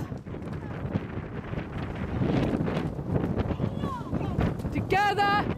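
A headwind buffets the microphone on a rowing boat during a race, a steady roar and rumble of wind throughout, with a coach's voice calling out over it.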